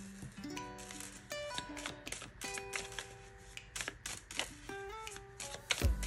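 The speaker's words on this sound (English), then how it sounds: "if you're watching the card shuffling" Tarot cards being shuffled and handled during a pick-a-card reading, quiet crisp riffles and taps in irregular bursts, with soft chimes or tones ringing in the background.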